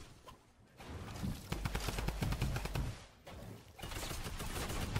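Gunfire in Fortnite, with rapid bursts of automatic shots crackling in close, dense clusters separated by short pauses, loud and sharp.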